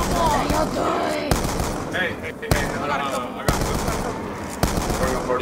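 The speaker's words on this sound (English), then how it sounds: "I gotta shoot him with the ray gun" A ray gun fires repeatedly in Black Ops 2 Zombies, with sharp zapping shots roughly every second over a busy bed of game noise and voices.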